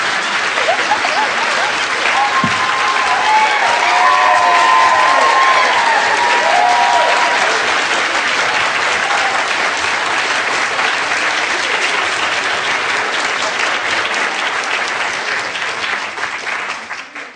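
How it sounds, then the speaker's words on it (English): A roomful of people applauds in a long, steady burst of dense clapping that stays loud throughout and fades slightly at the end, with a few faint voices mixed in. "A room full of people applauding you, on your side, reveling in what they know that you know."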